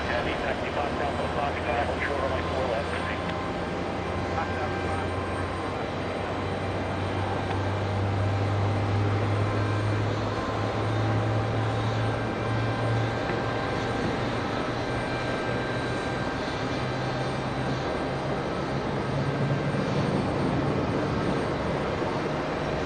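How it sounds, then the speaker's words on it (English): Delta Boeing 737-900 airliner on departure from JFK bound for San Juan, a steady broad jet roar with a low rumbling drone that swells in the middle, continuous and moderately distant. "Delta 806 heading to San Juan. A 737-900."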